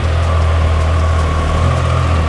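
A Triumph Tiger Sport 660 three-cylinder motorcycle with stock exhaust idles steadily after a cold start, a low, throbbing rumble with a faint higher whine, running continuously without pause or voices.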